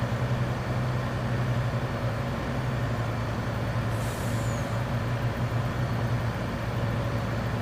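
A logging truck drives with a steady, close engine drone, and a short air-brake hiss breaks in about halfway through.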